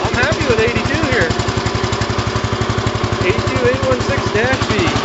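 A 1982 garden tractor engine running steadily, a loud, even, rapid chugging pulse close by, with someone talking over it.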